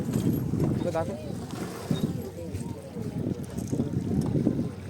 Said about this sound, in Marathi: बोट येते